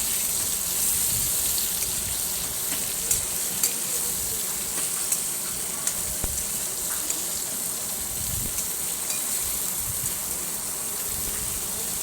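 Stuffed okra sizzles steadily in a pan while it is stirred, with occasional scraping clicks over a continuous frying hiss.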